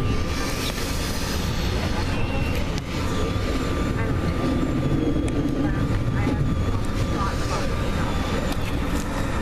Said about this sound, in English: These bridges are loud and they shake the whole train.